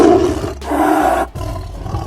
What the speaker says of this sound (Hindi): गोरिल्ला की दहाड़ काफी तेज होती है